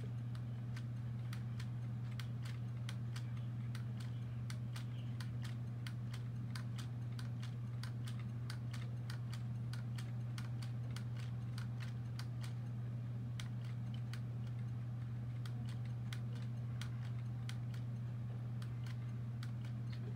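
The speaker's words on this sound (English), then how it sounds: "To interact with any checkboxes or radio buttons, you can hit the spacebar on the keyboard." Keys tapped in a steady, regular rhythm on a computer keyboard, the down arrow and spacebar pressed in turn, sounding as faint distinct clicks over a constant low electrical hum with no talking.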